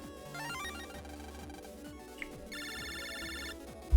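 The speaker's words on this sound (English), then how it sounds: "Lan, you got a phone call" A telephone rings inside a video game, a steady repeating electronic ring pattern over game music, loud and continuous for several seconds before a sharp thump at the end.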